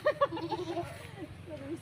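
Goat bleats on a farm, two short nasal cries near the start followed by softer wavering calls, heard close and mixed with people talking.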